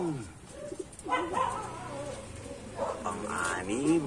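Racing pigeons coo softly at a loft after landing from a club training flight in Morong, Rizal, a few low warbling coos heard close by while someone talks over them.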